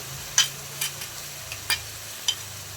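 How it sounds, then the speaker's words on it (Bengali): Ginger paste and spices being stirred in a pan while cooking a spicy pointed gourd curry, a few scraping spatula strokes over a faint sizzle, close and isolated. "তো আদা বাটাটা দিয়ে একটু নেড়ে চেড়ে দিচ্ছি।"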